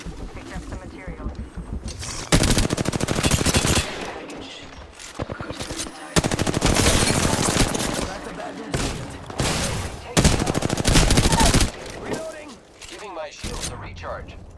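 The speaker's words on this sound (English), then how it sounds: "The enemies are shooting at me." Rapid enemy and player gunfire in the Apex Legends game, loud bursts of automatic fire broken by short gaps, with a voice speaking between the volleys.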